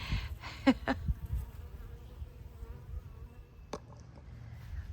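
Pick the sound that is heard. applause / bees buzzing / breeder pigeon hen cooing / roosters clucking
bees buzzing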